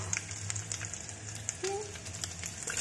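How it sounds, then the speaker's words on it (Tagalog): Food sizzles in a frying pan, a soft crackling hiss with scattered pops and a faint clink partway through, quiet and steady with no talk. "Fry natin para lumabas yung aroma niya."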